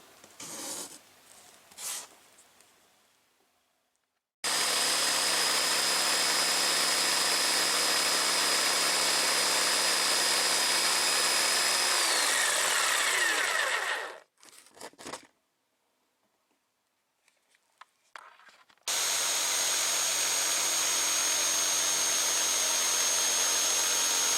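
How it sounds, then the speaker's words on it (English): Jigsaw cutting wood for a cracked dashboard pad repair on a third-generation IROC Z28, two long loud buzzing cuts separated by a brief silence, with some clattering handling noise at the start. "Now I take my jigsaw and I connect everything together."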